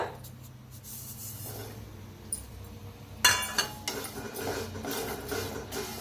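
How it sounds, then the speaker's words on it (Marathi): Sesame seeds dry roasting in a pan along with peanuts and grated dried coconut, giving a soft crackling rustle with scattered sharp clinks of a utensil against the pan and a low background hum. "आता ह्याच्यातच भाजायचं तीळ।"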